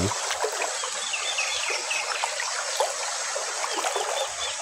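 Creek water flows steadily in the open, a continuous broadband trickle and splash that stays even throughout, with faint bird calls over it.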